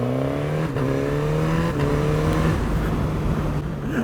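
A 2021 Suzuki GSX-S1000 motorcycle engine growls loudly up close, its pitch rising and falling with the throttle as the rider accelerates and rolls off on the road.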